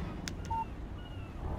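In the Alan Wake video game, a phone gives a short electronic text-message chirp, a couple of quick soft tones over a faint low background hum.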